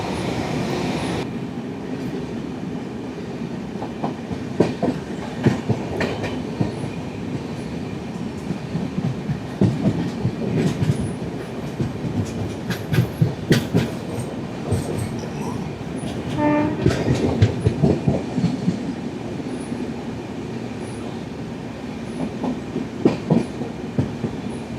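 The Netravati Express runs through Kerala with a steady rumble and rhythmic clatter of wheels on rail joints, and its horn sounds clearly partway through, close and loud.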